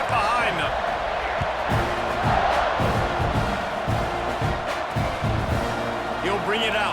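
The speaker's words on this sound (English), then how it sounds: "They're set to kick it off, and this crowd now ready to get behind them." Stadium crowd in College Football 26, Florida vs Texas A&M, a dense roar of cheering and shouting that swells at kickoff while a commentator talks over it.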